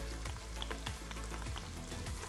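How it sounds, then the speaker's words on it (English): Garlic sautéing with onions and celery in a pot gives off a brief, steady, close sizzle with a faint crackle and no voices. "Saute this for about a minute just to get that garlic nice and fragrant."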